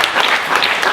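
Dense, steady applause from an audience at a film music tribute event, a loud continuous wash of many hands clapping at once, close and full throughout the brief moment.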